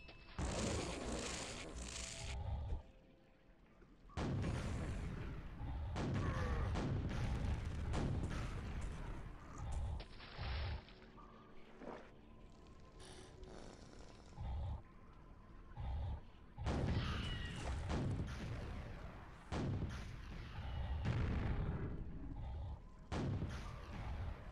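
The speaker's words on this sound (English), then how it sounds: "Rockets." Rocket explosions and weapon fire in the classic first-person shooter Quake, heavy booming blasts repeating in bursts with rumbling impacts and scattered gunfire, loud and close throughout.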